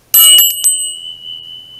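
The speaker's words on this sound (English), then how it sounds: "We have a bell, which is a turtle." A small turtle-shaped bell rings with a bright, sharp strike followed by a couple of quick secondary taps, then a long, clear metallic tone that slowly fades, loud and close with no voices.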